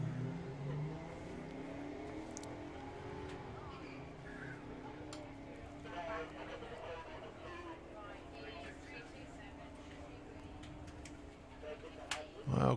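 Drag racing cars, one of them a Toyota Supra, roar down the strip at the Festival of Power 2022, with a steady loud engine drone and a sharp surge near the end, while a voice talks over it.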